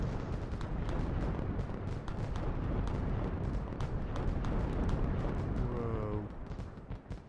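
Fireworks cannons firing in the video game Fireworks Mania: dense, rumbling booms and crackling blasts continuing steadily, with a whistling rising tone near the end.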